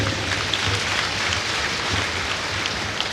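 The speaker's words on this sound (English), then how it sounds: "Can we all clap for the Almighty?" An audience clapping together at a plenary health session, dense, steady applause from many hands filling the room without pause.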